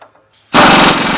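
A pneumatic impact wrench spinning off a 17mm lower fork bolt on a hatchback's suspension during a coilover install, a loud close buzzing rattle that kicks in abruptly after a brief quiet lead-in.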